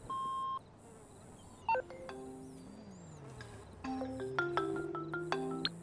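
Electronic beep of an answering machine in the video game Grand Theft Auto V, a steady tone followed by scattered game sound effects and tonal blips, with no speech.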